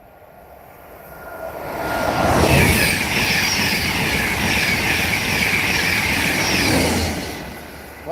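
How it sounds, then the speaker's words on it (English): An intercity train roars past nearby, building from a distant rumble to a loud, steady rush of wheels and engine noise before fading slightly at the end. "we'll let them have a look at that train"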